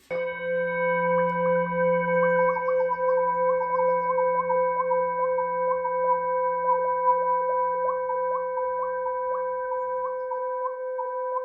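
A Tibetan singing bowl rings with a steady, sustained tone and a gentle pulsing wobble, continuous and alone from start to finish.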